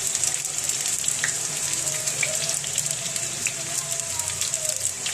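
Eggplant omelette, Waray-style tortang talong, frying in oil, giving a steady bright sizzle with faint pops and crackles that hold evenly throughout, with no talking.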